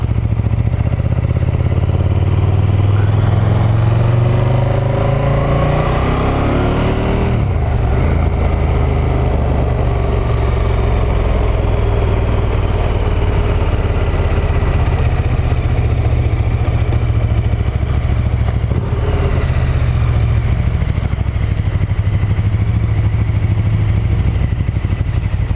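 A motorcycle engine runs steadily in rain mode on a short ride over greasy, slippery roads, its low drone loud and continuous with rising and falling pitch sweeps as the bike accelerates and shifts, no voices over it.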